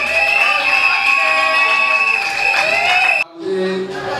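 Guests at a wedding ceremony in a reception hall cheer and clap in a loud continuous crowd roar with a bright whistling tone, which cuts off abruptly toward the end and gives way to quieter murmuring and a voice.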